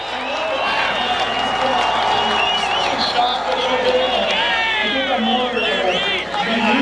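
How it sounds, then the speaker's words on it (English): A big grandstand crowd at a Las Vegas NHRA Top Fuel drag race roars and cheers for the new champion, a loud, sustained wash of shouting, whistles and clapping with voices and chatter blended in. "listen to the crowd saluting their new Top Fuel champion"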